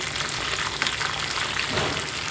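Semiya (vermicelli) roasting in a pan for semiya payasam, giving a steady, fairly loud broadband frying hiss that holds evenly throughout with no voices.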